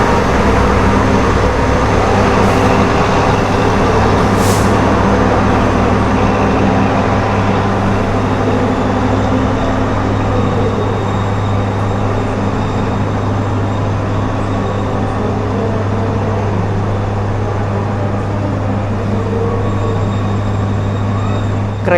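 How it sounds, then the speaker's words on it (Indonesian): The Sembrani passenger train, running from Gambir to Surabaya Pasar Turi, rumbles loudly and steadily throughout, with a constant low hum and rolling wheel noise, as heard close up or from on board. "Kereta api Sembrani dari Gambir tujuan akhir stasiun Surabaya Pasar Turi"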